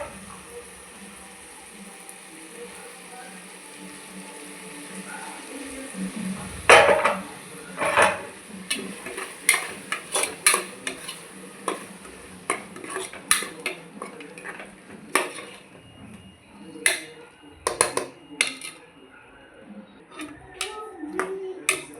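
Vegetables and masala fry in a pan on medium flame while a metal spoon stirs and scrapes, producing irregular clinks and knocks over a faint sizzle, close and clear, with a voice talking intermittently.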